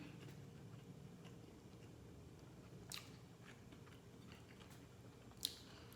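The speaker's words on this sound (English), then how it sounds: "let me go ahead and give it a bite." A few soft crunchy bites and quiet chewing of a Beyond Meat plant-based burger, close up, with no talking.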